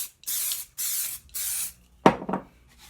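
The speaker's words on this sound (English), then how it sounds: "I'm going to take the other board now and spray with the accelerator" Starbond CA glue accelerator sprayed onto a board in three quick, loud hissing bursts of even length, followed by a couple of short knocks and handling noises.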